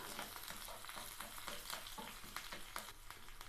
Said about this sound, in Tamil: பச்சை மிளகாய் வதங்கந்து போதும்